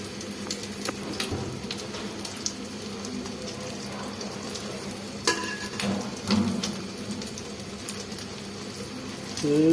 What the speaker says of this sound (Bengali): অস্থির লেভেলের ডিম ভাজতেছি।